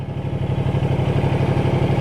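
A motorcycle rolls slowly around a car park in Scotland, its engine giving a steady, close, low throbbing pulse with a faint mechanical clatter.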